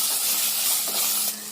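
An onion, ginger and garlic masala paste sautéing in oil for jackfruit seed curry, a close steady hiss and sizzle that softens briefly near the end.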